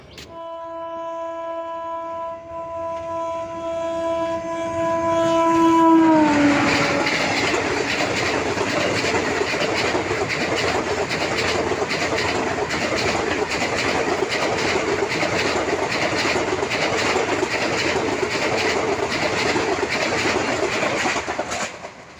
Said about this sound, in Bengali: চলুন ট্রেন ঢুকছে